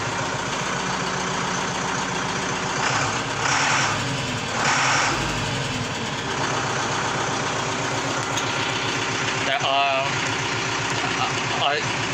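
A motor idles after being revved, giving a steady, low running rumble with slight swells, while someone talks over it now and then.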